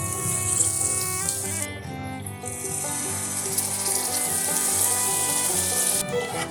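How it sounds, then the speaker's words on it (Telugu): Tamarind juice poured into a hot pan of onions for Telugu egg pulusu, a steady loud sizzle and bubbling frying hiss filling the whole stretch with no talk. "ఇప్పుడు మనం చింతపండు రసం పోసుకుందాం"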